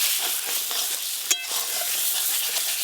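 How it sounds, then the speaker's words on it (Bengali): Peas and fried capsicum go into a hot pan of sizzling spice mix for a Bengali egg curry, giving a steady, bright frying hiss with one sharp utensil clink midway. "এবার ছাড়িয়ে রাখা মটরশুঁটি আর ভেজে রাখা ক্যাপসিকাম দেব।"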